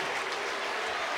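A Georgia baseball crowd roars and applauds after a one-out double, a loud continuous wall of cheering and clapping at close range, with a commentator's voice underneath.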